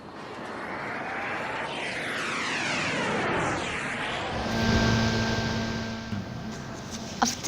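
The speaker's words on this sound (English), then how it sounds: "our airplane will fly back to Kuala Lumpur Airport" An airliner flies overhead near Kuala Lumpur Airport, its broad engine roar swelling as it approaches, sweeping down in pitch as it passes, then fading into a lingering rumble with a steady tonal hum.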